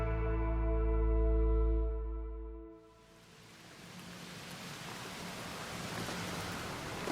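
Rain falls steadily on a river lined with overhanging trees, a broad hiss that starts once a tonal musical passage fades out and then holds.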